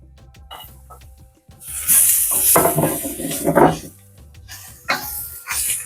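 Green chillies go into a pan of softened ingredients in a home kitchen, giving a loud burst of sizzling and metal-on-pan clatter as they are stirred, with quieter utensil clinks before and after.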